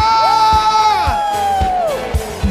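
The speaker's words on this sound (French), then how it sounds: "Acclame ton Dieu. Et pousse des cris de joie." Church congregation cheering, whooping and shouting for joy during worship music, a loud, sustained crowd roar with a high sung or shouted note gliding across it and a steady low beat underneath.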